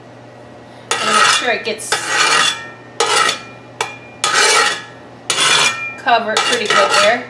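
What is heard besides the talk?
olive oil being spread in a pan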